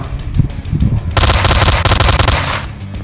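An automatic gun in the video game Slendytubbies 3 fires a loud, rapid burst of about a second and a half at a spider, after a few softer thuds and clicks.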